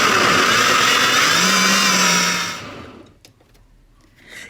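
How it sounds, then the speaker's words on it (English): A blender whirring loudly as it purees Oaxacan mole with chicken broth, a steady high motor roar that winds down and cuts off after a couple of seconds, followed by faint clinks. "cover it, and let's go ahead and blend it completely"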